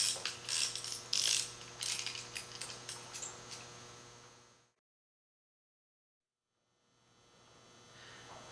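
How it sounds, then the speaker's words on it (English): A chain-type ratchet bolt cutter is worked: a rapid run of metallic ratchet clicks and pawl snaps, close and fairly loud, fading into a few seconds of silence before a low hum returns. "lift the ratchet handle to open, insert the object to be cut, engage the chain, position the ratchet handle, and pull"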